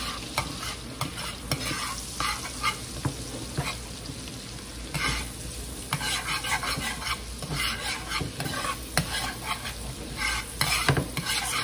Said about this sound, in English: Put that in, stir it around until the garlic gets a little on the crispy side.